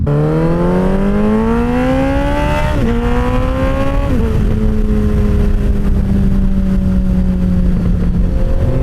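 Suzuki Hayabusa motorcycle with a new exhaust screaming loudly through rising revs, the pitch climbing then dropping sharply at each gear change before settling into a steady high-speed drone, close and continuous.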